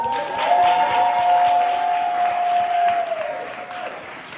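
Audience at a poetry slam applauding a poet, a dense burst of clapping from a crowd with a sustained tone running beneath, loud and close, tapering off near the end.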